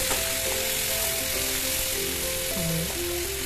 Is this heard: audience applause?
no